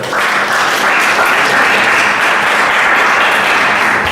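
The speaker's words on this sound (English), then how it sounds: "Please clap for yourself." Participants at an opening ceremony clapping for themselves, a strong, steady wash of applause from many hands that starts abruptly and holds evenly throughout.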